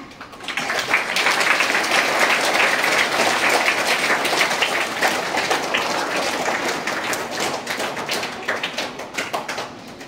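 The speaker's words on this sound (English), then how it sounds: "Clap for them." A school audience applauds steadily for several seconds at a prize ceremony for class 10 and 12 toppers, a dense wash of clapping hands that slowly thins out toward the end.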